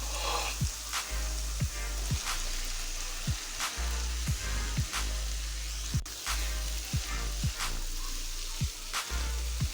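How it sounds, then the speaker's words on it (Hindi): Potatoes stir through sizzling spices for aloo bharta, a steady frying hiss broken by regular sharp taps of a spoon against the pan, close and without speech. "आलूओं को अच्छी तरह मसाले में मिक्स करेंगे।"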